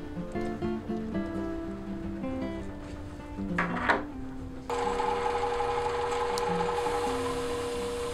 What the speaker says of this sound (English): we'll test this out in the mini lathe and see how straight it is